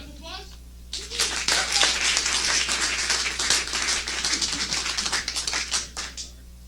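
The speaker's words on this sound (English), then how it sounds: "Round of applause." Audience applause at a business pitch event, a burst of many hands clapping that swells after a second, holds dense and steady, then tapers off, with a voice briefly heard at the start.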